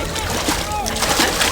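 A splash as a man tumbles into water in a comedy film scene, a sloshing burst close by, with agitated voices shouting over it.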